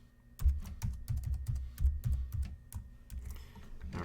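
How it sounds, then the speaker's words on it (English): A new password is typed on a computer keyboard, with a close, clear run of quick irregular key clicks and taps, no talking over it. "from here in this little field, you're going to type in your new password"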